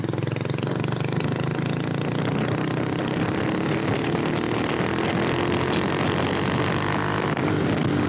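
A Hero CBZ motorcycle, modified into a cafe racer, roars continuously on an empty road and steadily rises in pitch as it accelerates, with a dense rumbling drone and no pauses.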